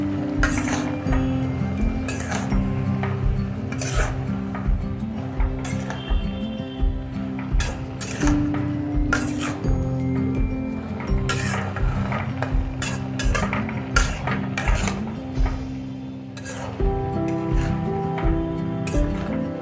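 Utensil clinks, scrapes and stirring in a pan as prawns cook in a Malabar spinach seed curry, a close, steady clatter with a simmering hiss beneath and no talking.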